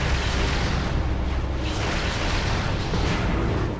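Dense, sustained booming roar of missile explosions in the Metroid Prime video game, loud and continuous from start to finish with no pauses and no voices.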